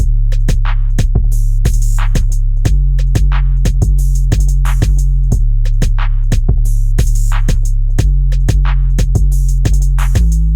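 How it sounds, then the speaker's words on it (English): A loud, punchy programmed drum beat with a deep booming kick and crisp hi-hat ticks in a steady repeating groove, with no voices. "All those drums together sound like this."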